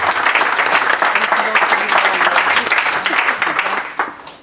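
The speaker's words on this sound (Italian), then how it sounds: "posso chiederti un applauso per questa amministrazione?" Audience applause at a public conference in Grottaferrata, a full, sustained round of clapping with crowd murmur that swells, holds, then tapers off near the end.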